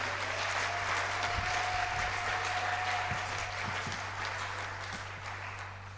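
A church congregation applauds after a sermon passage, a steady wash of many hands clapping that carries on for several seconds and slowly fades a little toward the end.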